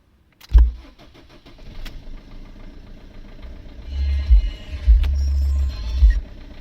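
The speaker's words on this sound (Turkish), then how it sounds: "Evet aracımız soğuk. Çalıştırıyorum." A cold Fiat Linea engine cranks and starts up close, then settles into a rough, uneven idle with low rumbling surges.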